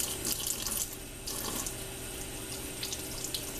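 A kitchen sink tap runs steadily as food is rinsed off before going on a plate, a loud close water stream that briefly shifts and splashes as items pass under it, with no talking.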